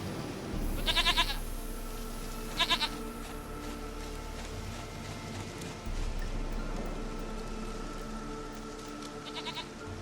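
Three short, quavering bleats from a goat in The Witcher 3: Wild Hunt ring out at intervals against a steady background that sounds like light rain.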